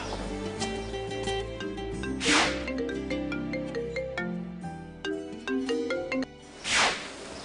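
A phone ringtone plays as a melodic tune with repeated notes and a couple of louder swells, steady and fairly close, with no voices.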